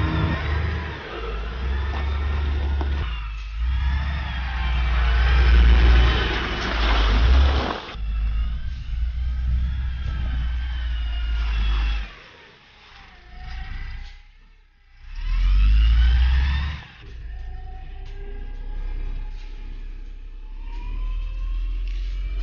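A Griffon armored vehicle circles a tiny roundabout, its engine rising and falling in loud surges with brief dips, heard close and continuous with no talk.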